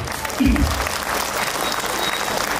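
An audience at the Prarthana International School prayer festival, Prarthanothsava 2025, claps in a steady, dense wash of applause, with a brief low voice heard near the start.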